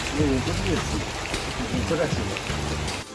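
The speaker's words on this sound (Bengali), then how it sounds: "বৃষ্টি থামার নাম নেই" Steady monsoon rain patters in the background at a 600-year-old royal palace while people talk nearby over it.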